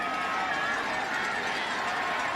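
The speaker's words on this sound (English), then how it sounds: "Listen to the crowd. Listen to him. Cheering him on." Football stadium crowd at a 2004 South Carolina AAA state championship game, a steady loud roar of cheering and applause filling the air as an injured player walks off.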